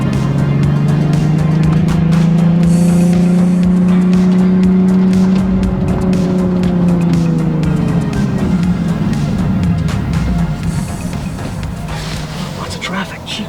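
A Nissan 370Z accelerates hard on a road, its engine note climbing loud and close from inside the car before easing off, while a voice talks over it.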